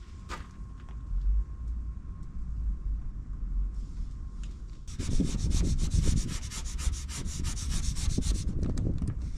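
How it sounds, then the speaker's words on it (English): A sign decal being rubbed firmly onto a truck body, inch by inch as it is peeled up: a quiet scrape at first, then steady, close-up rubbing strokes from about the midpoint on, with no talking. "I'm just peeling it up slowly and then just going inch by inch, rubbing it in, making sure it sticks well"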